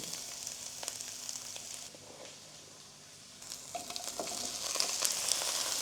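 Cauliflower pieces fry in a small amount of oil, a fairly quiet hiss and crackle that dips briefly before swelling again with livelier popping sizzle.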